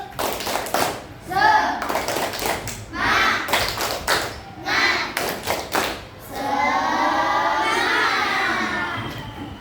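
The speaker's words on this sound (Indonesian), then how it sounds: "Tepuk semangat." Children clap together in a rhythmic pattern of sharp bursts in a classroom, with a lively crowd of young voices shouting and cheering afterward.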